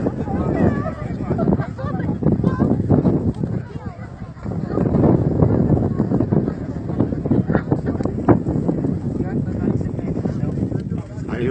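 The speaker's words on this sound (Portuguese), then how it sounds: "o ventinho tá 26, uma rajadinha aí bem forte" Strong gusty wind at 26 km/h roars across a microphone at the north paragliding launch ramp of Pico Agudo, loud and continuous with buffeting surges, while someone talks over it.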